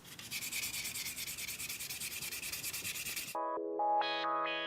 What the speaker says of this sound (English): This prevents sawdust from accumulating on the sandpaper and allows the remaining polishing marks on the chestnut to become more visible.